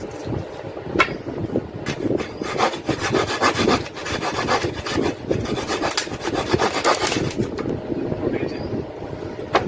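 A hand saw cuts through discarded scrap wood for a small box with rapid, rhythmic rasping strokes close to the microphone, with occasional voices in the background.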